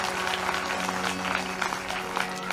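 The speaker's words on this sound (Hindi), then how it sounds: "मेरे राम के लिए ताली बजाओ आप एक बार।" Audience clapping together at a Hindu religious katha sermon about Lord Ram, a dense steady wash of applause from a large crowd filling the whole moment over a faint sustained musical hum.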